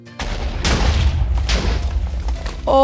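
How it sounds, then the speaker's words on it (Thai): A loud explosion booms in a Minecraft game, a sudden blast followed by a second burst and rolling rumbling debris, close and heavy, ending with a brief higher-pitched sound. "เสียงระเบิด"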